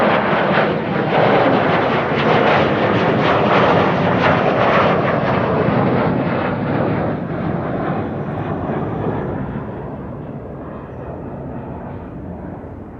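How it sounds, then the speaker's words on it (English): A KLM Embraer 175 airliner departing Schiphol for Oslo gives a loud, broad jet roar, close by at first, that slowly fades and dulls as it climbs away. "Embraer 175 to Oslo,"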